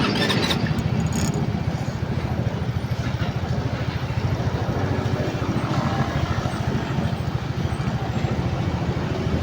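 An Easyride 150Fi motorcycle starts after a brief crank and settles into a steady, close single-cylinder idle with an even, rapid putter throughout.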